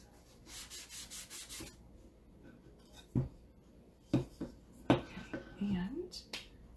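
A towel wipes chalk paste off a wood house cutout in quick rubbing strokes, followed by several sharper scuffs and taps up close, loud against a quiet room with no talking.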